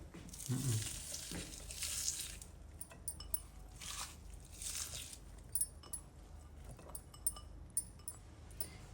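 Spice paste of ground cumin, ginger and garlic sizzles and spits in a hot pan, with bursts of frying hiss and light clinks of a stirring utensil against the pan.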